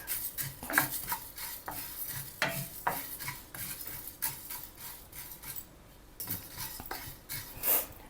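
Coriander seeds, with cumin nearby, dry roasting in a pan without oil for homemade Anglo-Indian curry powder: repeated scraping and stirring strokes against the pan with faint crackles, steady and close, no voices.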